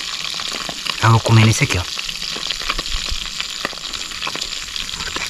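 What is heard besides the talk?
piau fish frying at the riverside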